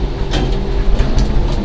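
A tram car inside the St. Louis Arch in Missouri rumbles steadily upward, with a low mechanical drone and faint periodic clicks, heard from inside the car.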